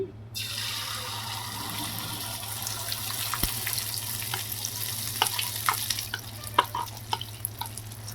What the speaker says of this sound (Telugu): సో ఆయిల్ అయితే హీట్ ఎక్కేసిందండి ఇప్పుడు చక్కగా ఇదైతే వేసేసుకుందాము ఆమ్లెట్ అయితే